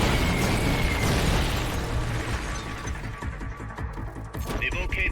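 Supporting fire explosions in Metal Gear Solid: Peace Walker, heavy booming blasts that open loud and then taper into rumbling debris, with a voice speaking over the tail.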